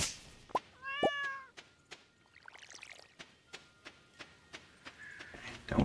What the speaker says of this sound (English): heard the cat meow